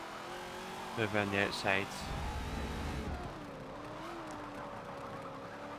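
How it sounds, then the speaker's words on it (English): A Mazda MX-5 convertible engine whines in the Forza 7 racing game, steady and moderate under someone talking. "This little convertible Mazda MX-5."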